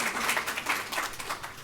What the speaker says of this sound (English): I'll take the applause.